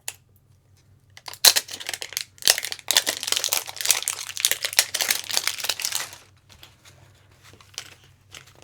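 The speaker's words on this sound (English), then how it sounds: "I'll take the cellophane off" Cellophane wrapping is peeled and crumpled off a pair of new LiPo battery packs, giving a close, busy run of crinkling and crackling for several seconds. The sound then thins out to a few faint rustles, with no talk.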